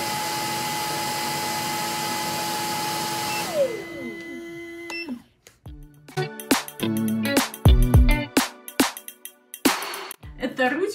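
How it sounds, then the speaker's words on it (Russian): A Medipro pedicure machine's vacuum whirs steadily, then winds down with a falling pitch and stops, followed by a run of clicks and handling knocks on the device. "это пылесос"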